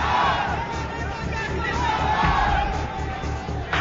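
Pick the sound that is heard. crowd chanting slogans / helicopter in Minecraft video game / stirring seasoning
crowd chanting slogans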